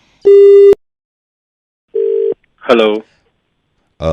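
Two electronic telephone tones, a long beep then a shorter one separated by silence, followed by a brief burst of a voice.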